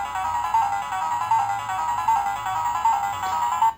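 Electronic toy chimes ring out from a Sailor Moon Kaleidomoon Scope wand, a repeating tinkling pattern pulsing steadily and close by for several seconds, with no one speaking.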